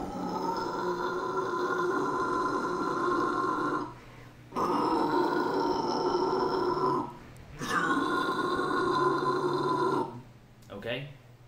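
A person performs a vocal fry scream using chest resonance, a deep, gritty, rasping sustained roar delivered close in three long bursts separated by short breaths, followed by a brief fourth sound.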